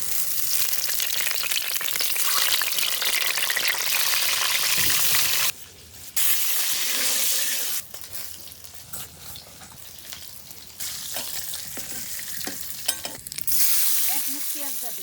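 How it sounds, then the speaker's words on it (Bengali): Oil sizzles and fries loudly in a hot wok. The hiss cuts out abruptly twice and comes back at a lower level, with faint stirring over it and no clear speech. "কড়াই গরম হয়ে গেছে, তেল দিয়ে দিলাম।"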